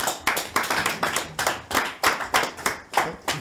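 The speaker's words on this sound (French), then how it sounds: "Alors on va applaudir de suite s'il vous plaît." Audience applause at a live French talk show, steady rhythmic clapping in repeated bursts, fairly close and loud, with no talk over it.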